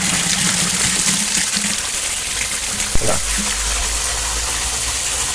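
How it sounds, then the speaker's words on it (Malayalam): Steady rushing water pours continuously into a 12x48 water filter vessel being refilled, a loud broadband gush with a single sharp knock partway through. "ഇതാണിപ്പോൾ നിലവിൽ വരുന്ന വെള്ളത്തിന്റെ സ്പീഡ്"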